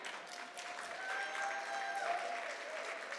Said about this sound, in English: Let's give a round of applause to everyone who donated